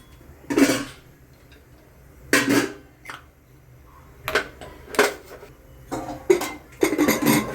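A pressure cooker lid being fitted and closed on a pot of Kolhapuri veg pulao, heard as a series of separate metallic clanks and scrapes in a quiet kitchen, some single and some clustered, near and moderately loud.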